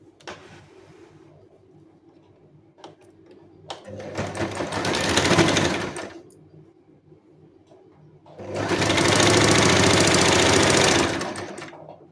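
A sewing machine double-stitches a blouse in two loud, steady bursts, one of about two seconds and a longer one of about three seconds, separated by quiet handling noise. No one speaks.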